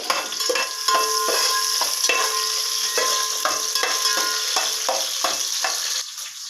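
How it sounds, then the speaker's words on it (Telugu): Green chillies sizzle in hot oil for a vegetable biryani, a steady loud frying hiss broken by repeated metallic scrapes and taps of a spoon stirring against the pan. "ఇప్పుడు కొంచెం డ్యాన్స్ చేస్తుంది పచ్చిమిర్చి వేస్తే."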